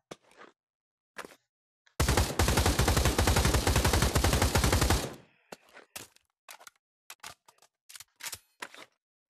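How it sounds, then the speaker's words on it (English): Automatic fire from an AK-12 rifle in the VR shooter Pavlov: one loud, sustained burst of rapid shots lasting about three seconds, surrounded by scattered sharp mechanical clicks and clacks of weapon handling. "The next one will be the AK-12."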